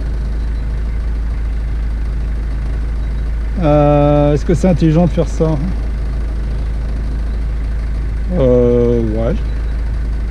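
A car's engine idles with a steady low hum that runs unbroken through the whole stretch, while people talk over it in a couple of short exchanges.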